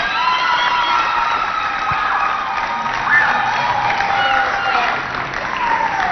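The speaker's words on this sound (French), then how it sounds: "On les applaudit très fort." An audience at a Christmas 2020 television special applauds loudly and steadily, with a dense wash of clapping and scattered cheers and shouts continuing throughout.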